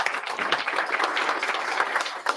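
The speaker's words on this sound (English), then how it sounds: "So let's give him a round of applause too." Applause at a city council meeting, a dense wash of clapping from a seated crowd, moderately loud and steady throughout.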